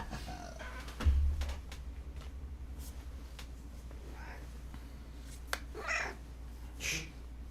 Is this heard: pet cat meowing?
yes